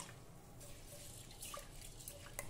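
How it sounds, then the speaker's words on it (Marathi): Water splashes faintly as a mix of lentils, including split pigeon peas, chana dal and moong dal, is rinsed in a bowl, with soft swishing and small drips. "आता सर्व डाळी पाणी घालून स्वच्छ धुवून घेऊ"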